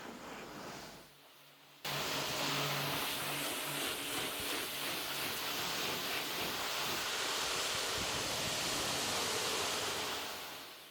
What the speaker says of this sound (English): Give the car a thorough rinse down